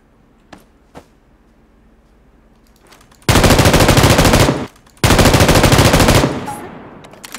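Two sharp single shots, then two long bursts of rapid automatic gunfire, loud and close, with a brief gap between them.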